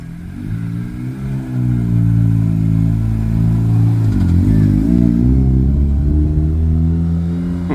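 The rotary engine of a 1991 Mazda RX-7 in a video game garage idles steadily and loudly, with a brief dip and swell in pitch midway and a low, throbbing, even tone throughout.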